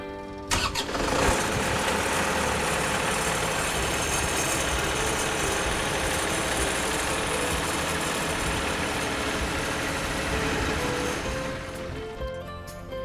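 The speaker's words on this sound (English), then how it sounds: "So let's, Jason, fire it up and let's have a look." A TimberKing Tall & Wide hydraulic sawmill's engine cranks and catches, then runs at a steady, loud idle for several seconds before easing down near the end; no talking.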